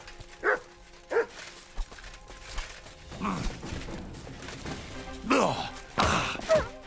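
Several dogs bark in Kingdom Come: Deliverance II, giving short separate barks near the start, then a rougher cluster of barking and growling toward the end, with brief sounds like a voice in between.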